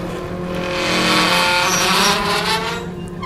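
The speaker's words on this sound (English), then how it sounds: "Otter fires up the car." A car in a post-apocalyptic game is started and driven off, its engine roaring loud and close with rising tones and a hint of tire squeal.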